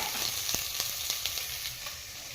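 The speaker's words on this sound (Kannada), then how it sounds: "ಆನಿಯನ್ ಕ್ಲೀನಾಗಿ ರೋಸ್ಟ್ ಆಗಲಿ ಎಲ್ಲ ಕಡೆ." Onions fry and roast in a pan for mutton donne biryani, a steady loud sizzle with occasional soft taps and stirs of a utensil against the cookware.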